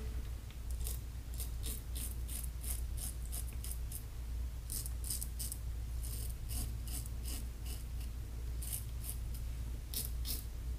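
A wet-shaved razor scrapes over lathered shave soap in short rasping strokes, close and quiet, repeated in steady clusters over a low background hum.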